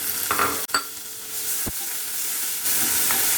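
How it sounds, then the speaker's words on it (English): Finely chopped tomatoes hit light-brown frying onions in a pan, setting off a loud, close sizzle with a sharp stir or clatter near the start, then a steady hiss that swells again toward the end. "At this stage we'll add the finely chopped tomatoes"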